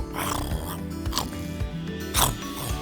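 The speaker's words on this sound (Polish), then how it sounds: "To zwierzę to świnia." A pig grunts and snorts in several short, rough bursts against a fairly noisy background, moderately close.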